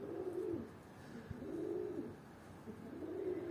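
Pigeons coo softly as a male chases a female, with three rolling coos spaced evenly over a few seconds against quiet background noise.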